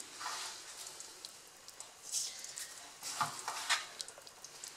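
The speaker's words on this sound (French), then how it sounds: "Et là, c'est notre sauce. Il est en train de mijoter, là, comme vous voyez." Couscous sauce simmering in a pot, a faint soft bubbling and sizzling hiss with scattered small pops and stirring clatters, fairly quiet and close.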